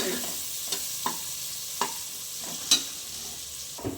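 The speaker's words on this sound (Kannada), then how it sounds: "ಈರುಳ್ಳಿ ಇಷ್ಟು ಮಟ್ಟಿಗೆ ಫ್ರೈ ಆಗಿದೆ" Onions frying in a pan for a home-style green gram gravy, a steady soft sizzle broken by a few light clicks of a spatula scraping and stirring, close and moderately quiet with no talking.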